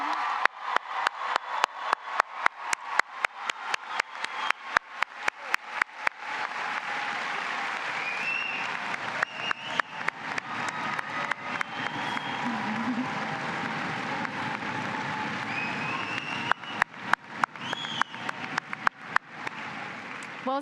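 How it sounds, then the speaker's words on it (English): A crowd at a high school commencement applauds the graduating class of 2025 in a large hall, with dense sustained clapping and sharper individual claps at the start and end. "let's give a big old round of applause for this class."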